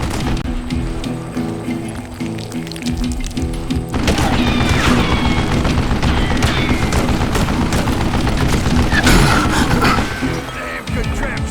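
A mounted gun in Call of Juarez: Gunslinger hammers out a loud, continuous stream of rapid shots, with splintering impacts and booms layered in; it starts quieter and swells into a dense, sustained barrage from about the four-second mark.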